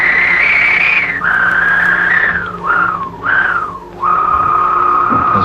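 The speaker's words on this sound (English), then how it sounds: "I'm going to ask it to stop at the end, and I'm going to put a long decay." A synthesizer voice sings a steady whistling tone that slides down in several swooping drops before settling on a lower held pitch, loud and alone.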